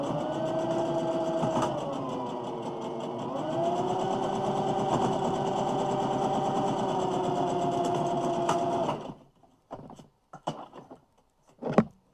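A sewing machine hums steadily while stitching quilt pieces together, its motor tone dipping briefly and then holding for several seconds before stopping abruptly, followed by a few light clicks and handling noises.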